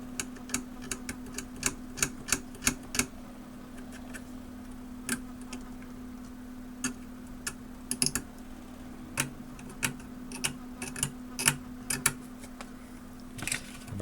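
An X-Acto knife scrapes the component leads of a Heathkit SG-8 signal generator during filter capacitor replacement. It comes as a run of sharp, irregular ticks and scratchy strokes, close and moderately loud, over a steady low electrical hum.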